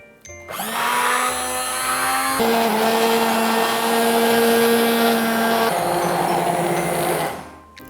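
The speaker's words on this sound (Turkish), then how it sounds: "Bir el blender alıyoruz ve çorbamızı blender'dan geçiriyoruz." A hand blender whirs steadily at close range, pureeing broccoli soup, its motor pitch shifting as it runs for several seconds before stopping.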